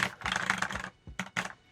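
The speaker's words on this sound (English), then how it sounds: "Like I'm typing or whatever." Quick bursts of keystrokes on a mechanical computer keyboard clatter up close, a dense run of clicks followed by a short pause and two more brief strokes.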